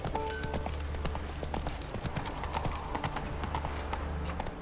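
The horse Roach in The Witcher 3 gallops with rapid, rhythmic clip-clop hoofbeats close by, accompanied by faint ambient game sounds.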